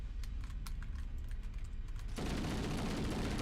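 Tail gunners on ships fire in Halo: Combat Evolved, a rapid stream of sharp clicking shots that gives way to a loud, dense roar of sustained fire.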